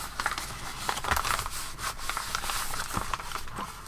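A sheet of recycled paper being turned over by hand while making a simple doodle keeper, giving soft close rubbing and light crinkling that continues steadily for a few seconds with no speech.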